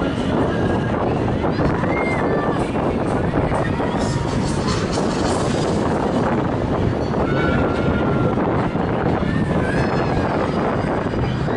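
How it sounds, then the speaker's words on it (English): Constant loud wind buffeting roars against the microphone throughout on a Star Flyer fairground ride climbing to 40 metres, with faint voices and mechanical hum underneath. "It's going to be a bit windy"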